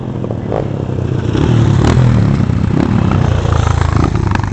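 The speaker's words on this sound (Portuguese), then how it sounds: "Começa a subir. O motor vai morrendo." An off-road car labours up a steep dirt trail hill at the Guidão Torto trail ride, its loud, close engine droning and straining in a rough, sustained roar that sags as it climbs.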